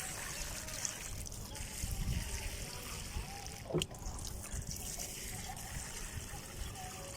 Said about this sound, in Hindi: और अभी हम इनको पानी दे देते हैं, वाटर, पानी।